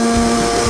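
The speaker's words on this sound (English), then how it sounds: "once you got all of that in the blender, we're just gonna blend it all up." A blender running steadily on a pumpkin protein shake with whey and a cup of ice, a loud, continuous motor whir with a strong steady hum and grinding texture throughout, no talking.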